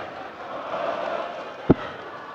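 Darts crowd noise at a European Darts Grand Prix match featuring Vincent van der Voort: a steady broad murmur of spectators with a swell of cheering, and one sharp thud cutting through near the end.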